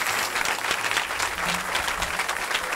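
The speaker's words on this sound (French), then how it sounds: "On acclame Jésus-Christ de Nazareth." A church congregation applauds and cheers in praise of Jesus Christ, steady dense clapping filling the room throughout, with a few voices mixed in.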